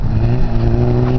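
An off-road buggy (gaiola) engine revs hard and steadily while the buggy drifts, a loud, continuous mid-range drone held close up for just over a second.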